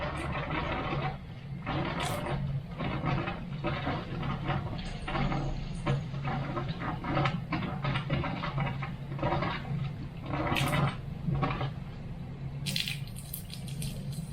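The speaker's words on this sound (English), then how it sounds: "There's the water in the pipe coming out." Water rushes steadily through a water filter pipe nearby, pushing air through the resin, a constant gurgling flow with low rumble and occasional splashy bursts, continuing without a break.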